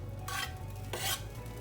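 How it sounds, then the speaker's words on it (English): Two short bursts of sizzling as ginger hits a hot pan, separated by a brief pause, fairly quiet with no voices. "Ooh, sizzle. What's sizzling?"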